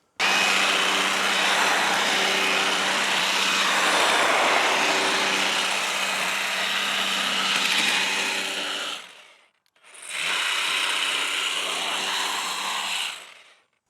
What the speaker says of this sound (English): So there's a quick overview and demo of the 4-in-1 multi-tool from Wild Badger Power.